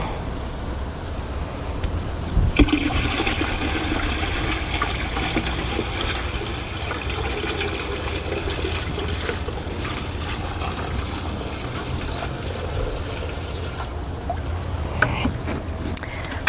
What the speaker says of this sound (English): So let's come and just pour it gently into the net.